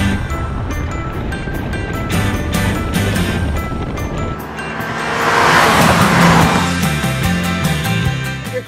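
A small Volkswagen Jetta engine pulling hard during a race, a loud, steady drone that rises and swells midway with heavy road and wind roar.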